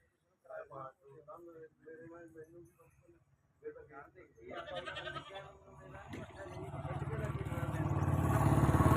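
Goats bleat in short bursts among the chatter of a goat market in Punjab, India, on the Mansa road, with an engine rumble and traffic noise building steadily toward the end.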